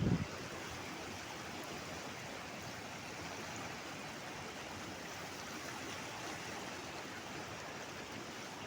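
Water runs through a village channel fed by a large lake: a faint, steady rushing flow, even and continuous throughout, with no voices over it.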